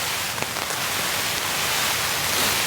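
Heavy rain drumming on a tent during solo camping in a fierce storm, a dense, close patter with a few sharper drops standing out over the steady hiss.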